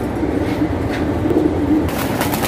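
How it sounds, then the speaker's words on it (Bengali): Pigeons at a large racing and high-flyer pigeon farm give low, soft cooing that runs steadily through the whole stretch, with a faint brighter chirp or flutter near the end and no talking. "এখানে কবুতর গুলো ফ্লাই করে থাকে"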